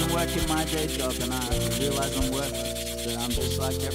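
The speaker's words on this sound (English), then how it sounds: "I'm going to take an even finer piece of sandpaper and go along the sides of the board" Steady, continuous abrasive rubbing of fine sandpaper along the sides and bottom of a small wooden fingerboard, close and fairly loud, with even back-and-forth strokes and no talking.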